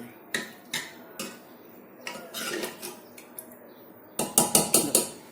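Dal with ridge gourd and a heap of coriander is stirred in a metal pan, the spoon clanking against the sides in irregular taps, then a quick run of five sharp knocks at the end.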